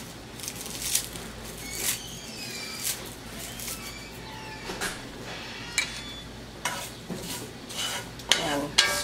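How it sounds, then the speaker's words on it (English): A utensil stirs seaweed and salt as they toast in a frying pan, making soft scraping and rustling strokes with light ticks, close and fairly quiet, and no voices. "Stir it around a little bit so that you can just all get a little more toasted."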